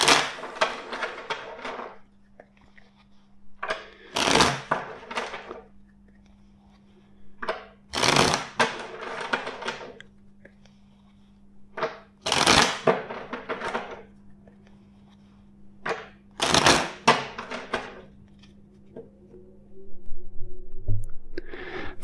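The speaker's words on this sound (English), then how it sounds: "I will shuffle the deck 5 times." A tarot card deck is riffle-shuffled several times, each burst a quick fluttering ripple separated by quieter handling sounds, close up.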